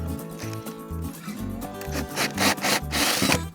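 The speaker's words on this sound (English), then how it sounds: "just place your drill bit in that hole" A drill bores a hole through a wooden board up close in short bursts, a low motor hum with rough, rasping chatter that grows louder toward the end.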